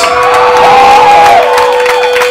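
A concert crowd at a punk show in Costa Rica cheers and whoops loudly and close, one rising shout standing out briefly above the steady roar.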